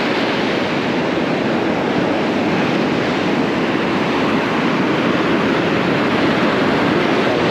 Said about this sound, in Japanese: 波が強いからな